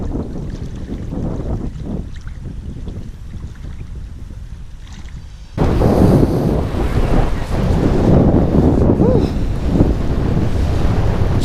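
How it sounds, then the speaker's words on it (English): Wind gusts hard across the microphone while fishing on the Georges River, a rough blustery roar that suddenly grows much louder halfway through and stays strong to the end, with water lapping underneath. "Check out that wind."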